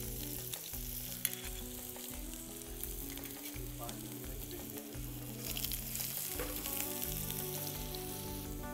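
Finely chopped onions frying in a pan with mint paste, a continuous soft sizzle and crackle heard close and fairly quiet, with intermittent stirring sounds.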